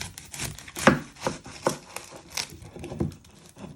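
A knife chops the end off an onion on a cutting board while making spaghetti bolognese: a few sharp, separate close taps spaced roughly half a second apart, quiet overall with no talking.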